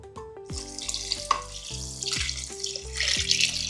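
Water pours steadily into a pot of rice and lentils for masala pongal, a continuous splashing rush with a few clinks, growing slightly brighter toward the end.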